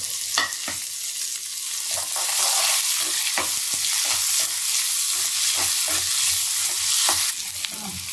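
Curry leaves with chopped onion and small sambar onions fry in hot oil, giving a steady loud sizzle. Scraping stir strokes cut through it at irregular intervals, with no talking.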